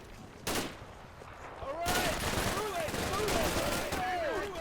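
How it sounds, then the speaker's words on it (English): MG42 machine guns fire in Combat Mission: Final Blitzkrieg, sustained dense bursts and crackling volleys from several guns through buildings, loud and continuous with whistling sounds overhead. "I get hit with a barrage of MG42 fire, cutting straight through the gap in the buildings, multiple machine guns focused on one of my occupied buildings"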